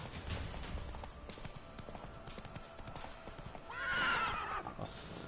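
A horse clip-clops along on hooves in The Witcher 3, the steady steps running throughout. Partway through comes a loud neigh, followed by a brief bright game tone at the end.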